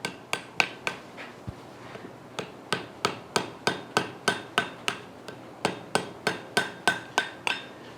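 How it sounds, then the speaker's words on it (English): A blacksmith hammers a forge weld at welding heat over the lip of an anvil while making a pintle hinge: about twenty sharp, ringing metal strikes in a steady rhythm, close and loud, with no talking. "I'm using the lip of that anvil actually to catch that piece so I can tap in there and seal that up"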